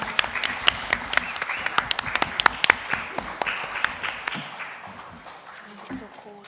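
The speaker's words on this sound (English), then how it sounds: "a round of applause again for all our participants" Spectators at a primary schools quiz applaud the participants, a round of sharp, scattered claps up close that thins out and fades to near quiet by the end.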